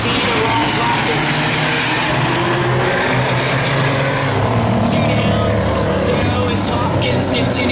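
Stock race cars roaring around an oval track, a loud dense wall of engine noise sustained throughout, with a voice talking over it.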